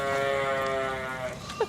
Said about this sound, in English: We're moving away from the sheep, and as you can hear, they're protesting as I'm deserting them.